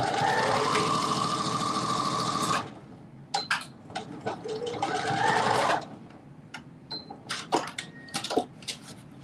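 A sewing machine runs in two steady, rapid bursts while stitching a pair of pants, with clicks and handling noises between the runs.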